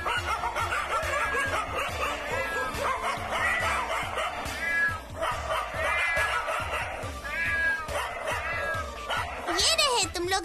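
Dogs and cats gathering in a neighbourhood, with steady overlapping barks, yips and meows filling the scene under continuous music and loud crowd-like background noise.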